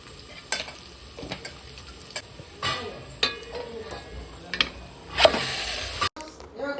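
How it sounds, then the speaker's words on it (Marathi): Oil sizzles and spatters in a pan as chicken is tempered, while a spoon stirs and scrapes intermittently, with a few sharper crackles along the way. "हे मी आता इथे चिकन फोडणी देणार आहे"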